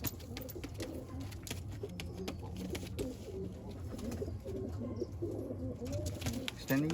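Madras pigeons in a loft coo repeatedly in soft, throaty phrases, several birds close by, with a quiet voice briefly under the calls.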